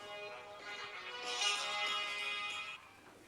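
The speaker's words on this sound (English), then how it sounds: "Hang on, I've got to answer the phone." A phone ringing in a home, a steady electronic ringtone melody with bright tonal notes that swells, holds, then cuts off near the end, heard alone without talk.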